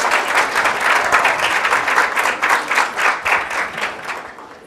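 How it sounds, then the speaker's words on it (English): An audience applauds a speaker at an astrology lecture event, with dense, loud, sustained clapping in a rippling rhythm that eases off toward the end. "a round of applause with Robert Currey"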